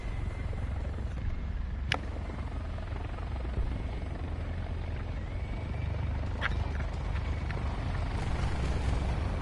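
A Mi-24 Hind helicopter in War Thunder drones steadily with a distant, continuous rotor thrum and a faint, whining engine tone, with no talking.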